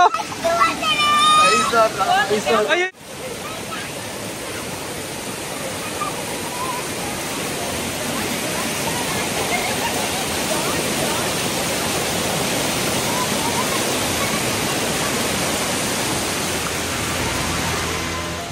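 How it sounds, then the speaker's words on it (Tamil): Water rushes down a stream at the Thirumoorthy waterfall near a temple by Pollachi, heard as a loud, continuous hiss of flow after a brief stretch of people talking at the start. "கோவிலை சுத்தி இந்த நீரோடையில வற்றாம நீர் ஓடிட்டு இருக்கோன்னு தான் சொல்றாங்க"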